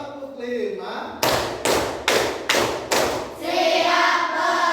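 Five sharp, evenly spaced hand claps ring out in a quick rhythmic pattern in a classroom, with voices chanting in Indonesian before and after.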